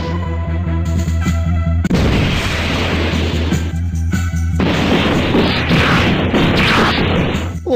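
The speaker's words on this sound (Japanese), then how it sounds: "綺麗な花火でしょ。" Loud explosive crashes and booms burst in waves over a droning tone, dense and chaotic like a barrage of fireworks in the mobile game Dragon Ball: Mystic Saga.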